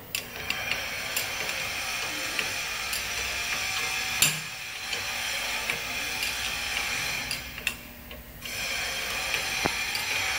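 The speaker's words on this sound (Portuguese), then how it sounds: "Ou uma chavinha 7 também pode ser. E é feita o aperto final da rosca" A small 7 mm wrench ratchets as a new nut is given its final tightening during service work on a Toyota Hilux, a close steady clicking with a few sharper knocks in a quiet workshop.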